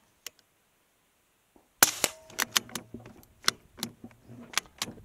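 A suppressed Savage MKII FV-SR bolt-action rifle fires subsonic rounds at a short-range target: a sharp muffled crack, then a quick series of mechanical clicks and clacks from working the bolt, close by.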